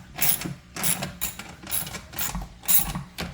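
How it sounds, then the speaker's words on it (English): E-bike rack pieces being bolted together with four bolts, heard as a close series of rhythmic ratcheting bursts, each lasting about half a second, repeating steadily with short pauses between them. "Just going to attach those right here with the 4 bolts."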